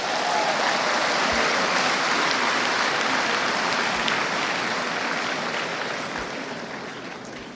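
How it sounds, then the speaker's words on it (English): A conference hall audience at an annual accountants' conference gives a sustained round of applause, dense steady clapping from many hands that holds loud and then gradually fades toward the end. "give yourself a resounding round of applause."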